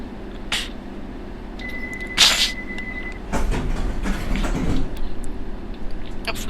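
A London Underground Circle Line train departs in the World of Subways simulator: a puff of air hiss and a steady warning beep, then a low motor rumble builds as the train pulls away.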